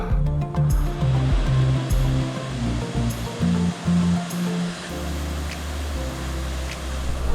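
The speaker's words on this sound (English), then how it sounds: "Just have a quick peek at the waterfall." Waterfall in Thailand, a steady broadband rush of falling water close by, continuous throughout with low rumbling undertones and brief fluctuations, no talk.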